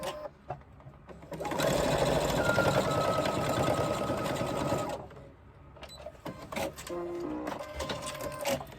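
A sewing machine stitches a 3/8 inch seam on fabric in a steady whirring run of about three seconds, followed by shorter bursts and clicks, close and fairly quiet.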